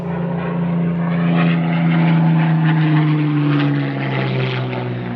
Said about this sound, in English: P40 Warhawk outside the hangar on a 45-degree down.